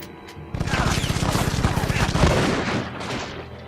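Rapid gunfire from the video game Afterfall InSanity crackles in a loud, sustained burst of shots lasting a few seconds, with a brief quieter moment before it begins.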